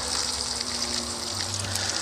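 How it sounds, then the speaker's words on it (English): Water running out of a battery-powered pump hose at an allotment, a steady hissing splash with a faint low motor hum underneath, continuous and close. "Alright, got water coming out there now."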